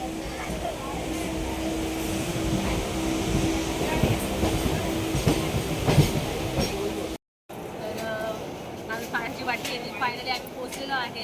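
A Mumbai local train rumbles and rattles steadily along the tracks while people talk nearby over the continuous roar.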